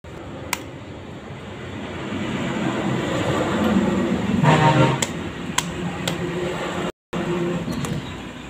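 Electric water pump motor running after being wired, a steady whirring drone that swells briefly in the middle, with a few clicks and a momentary cutout near the end.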